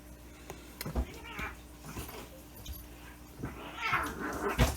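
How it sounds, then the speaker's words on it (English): Cats fight nearby in a room, with faint, scattered yowls, hisses and scuffling bursts that build slightly toward the end over a low background hum. "Cats are fighting, of course."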